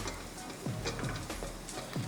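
Onion, ginger and garlic fry and sizzle in a pan, a steady hiss broken by a few soft scraping stirs at regular intervals, close and fairly quiet.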